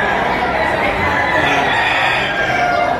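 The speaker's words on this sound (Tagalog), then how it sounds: "Madaming murang manok ngayon dito sa Padre Garcia." A gamefowl rooster crows loudly amid the steady din of a busy poultry market in Padre Garcia, with other birds clucking and crowing close around it.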